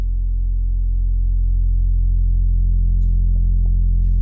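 A deep, sustained synth sub bass tone, low-pass filtered with tube distortion giving a gritty, saturated edge, droning steadily and loud, with faint clicks near the end.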